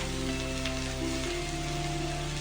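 Capsicum sautés in a pan with a low, even sizzle over a steady background hum, with no clear stirring strokes.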